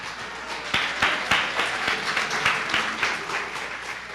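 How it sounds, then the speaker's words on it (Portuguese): A church congregation in Catete claps together in praise, a loud, dense patter of hands with a few sharper near claps standing out, steady and unbroken from start to finish. "Uma salva de palmas ao Senhor."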